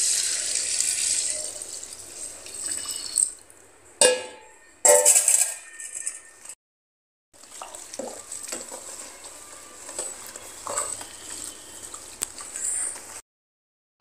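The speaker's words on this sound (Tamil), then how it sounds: "நான் வந்து 1 லிட்டர் தண்ணி ஊற்றுறேன்" Water poured from a container into a homemade liquid detergent mixture, a liter at a time, splashing and trickling in close bursts with gaps of near silence between pours.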